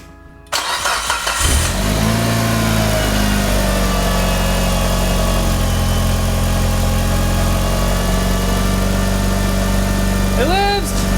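A Mitsubishi Evo X, just refitted with a fusible link and new battery wiring, cranks briefly and fires up, then settles into a steady, loud idle close by for several seconds.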